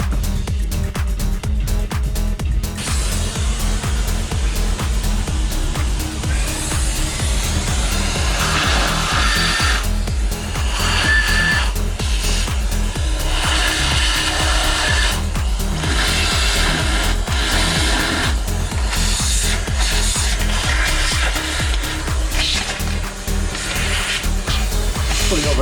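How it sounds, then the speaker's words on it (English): A vacuum cleaner hoovers a heat insulation specialists' workshop, a steady loud motor roar with shifting whine and scraping as the nozzle moves, running continuously throughout without speech. "I'm going to hoover it now, then I'll give it a little wash down on acetone."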